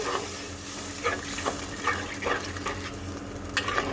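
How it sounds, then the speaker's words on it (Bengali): A curry masala gravy for a fish and potato curry is stirred in a pan after water is added, giving a continuous wet sizzle with soft, regular scraping strokes. "এখন আমি দিয়ে দিলাম ঝোলের জন্য জল এখন আমি মিক্স করে দেবো"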